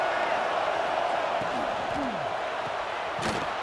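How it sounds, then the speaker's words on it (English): Stadium crowd noise in College Football 26 video game, Notre Dame versus UMass, rising during a red zone defensive stand: a continuous dense roar with a few whistles and brief sharp accents over it. "And here comes the noise. This crowd is trying to inspire this defense to make a big red zone stop."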